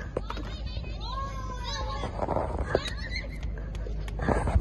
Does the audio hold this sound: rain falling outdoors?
no